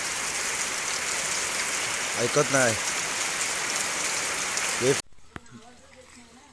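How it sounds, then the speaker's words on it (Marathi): Heavy monsoon rain in Vaibhavwadi, Konkan, India, pours in a dense, constant roar, a voice speaking briefly over it; the downpour cuts off abruptly near the end, leaving quiet. "आता सकाळपासून असाच पाऊस लागतो मित्रांनो आणि बेफाम लागतो"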